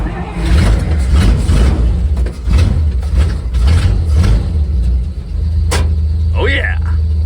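A Dodge Power Wagon truck engine runs in freezing cold, revving in rough bursts and then settling into a steady close idle, with voices talking over it.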